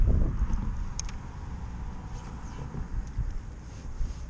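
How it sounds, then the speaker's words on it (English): Steady wind buffets the microphone on a lake during a bass fishing trip, a low rumbling gust that is strongest at the start and then eases into a constant blustery roar, with faint scattered ticks and no talking. "I got quite a bit more wind than I had earlier."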